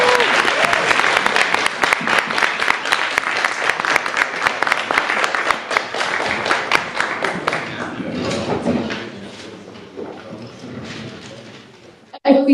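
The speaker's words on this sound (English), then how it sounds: "A round of applause." A debate audience claps in a sustained round of applause for about eight seconds. The clapping then thins into scattered claps and fades out.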